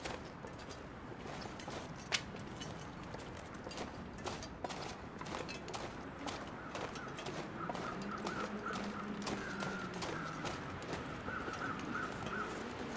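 Bird calls in The Long Dark, an outdoor winter survival game: thin, repeated chirps and caws ring out faintly over a steady wind-like background, with sparse clicks and taps scattered through.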